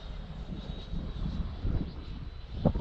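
A small RC model airplane's electric motor drones at half throttle at cruising speed on a windy day, a steady distant buzzing whine with slight swells as the plane rocks, alone without talk.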